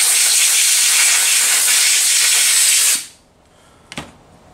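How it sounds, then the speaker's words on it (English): Compressed air blasting a Makita vacuum filter, a loud steady hiss for about three seconds that cuts off abruptly, followed by a quiet stretch and a brief knock. "Again, compressed air is your friend."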